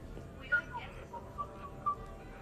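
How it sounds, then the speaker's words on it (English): A few short, thin whistled notes in Mass Effect 3 rise faintly over a low background murmur at a quiet party, spaced out and soft. "Are you whistling?"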